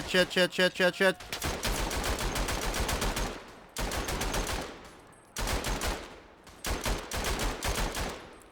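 Machine gun fire in the World War I shooter Verdun: loud, close automatic bursts of rapid, evenly spaced shots, broken into several long strings with short pauses between them.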